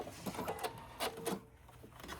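A sewing machine runs in short bursts, locking in stitches with quick, rhythmic mechanical chattering close by, then stops.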